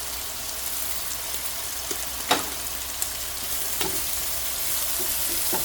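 Onions sauté in a pan with a broad, steady hiss, broken by a few sharp clicks and scrapes from stirring, close up with no voices.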